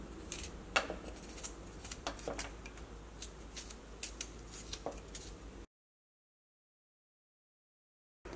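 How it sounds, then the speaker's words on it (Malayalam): Ginger and garlic being sliced thin by hand with a knife, a series of soft crisp cuts and light taps close by, then a stretch of silence. "ഇഞ്ചിയും വെളുത്തുള്ളിയും നമുക്കൊന്ന് കനം കുറച്ചിട്ടൊന്ന് കട്ട് ചെയ്തിട്ട് എടുക്കാം."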